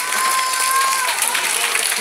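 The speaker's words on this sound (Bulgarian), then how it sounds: "Силни аплодисменти за Жоро от Сандански." Circus audience in Sandanski, Bulgaria applauding, a dense, steady wash of many clapping hands that holds at an even loudness throughout.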